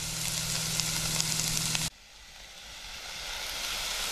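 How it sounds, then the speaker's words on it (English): Onion and garlic frying in a small camping pot, a loud steady sizzle that cuts off abruptly partway, followed by a faint rising hiss. "Just frying some onion."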